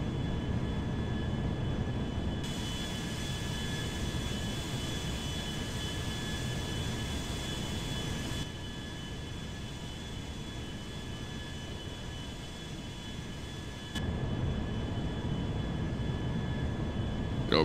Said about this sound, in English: we're just gonna let the airplane fly itself